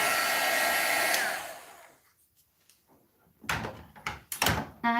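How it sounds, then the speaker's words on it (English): A heat tool blowing hot air to dry ink on a stamped card, a loud steady whir that winds down after about a second, followed by quiet handling, clatter and sliding sounds close by. "you can use a heat tool if you have it turned on"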